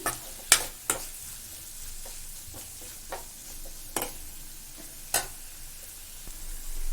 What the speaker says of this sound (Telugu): టమోటా ముక్కలు, ఆనియన్స్ మరియు మనం స్పైసెస్ వేసాం కదా, దాంతో ఒకసారి బాగా కలపండి.